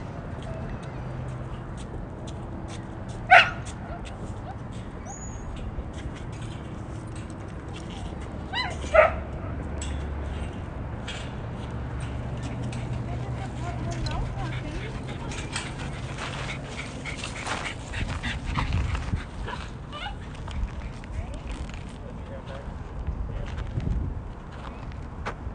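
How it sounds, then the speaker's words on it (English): A dog outdoors gives a couple of sharp barks early on, then pants and whimpers softly through a long stretch of quiet ambient noise. "What are you barking at?"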